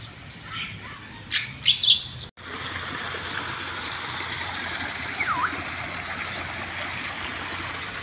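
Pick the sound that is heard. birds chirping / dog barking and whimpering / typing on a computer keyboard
birds chirping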